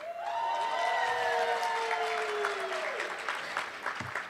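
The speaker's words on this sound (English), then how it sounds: "Hold the applause" An audience applauds at a university Match Day award ceremony, with broad, steady clapping under a high, sliding whoop-like tone that falls away. The clapping then thins toward the end.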